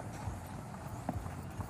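Horse hooves clip-clop at an outdoor horse and animal fair in Abreu e Lima, Pernambuco, with a few irregular, moderately close hoof strikes over a busy background murmur.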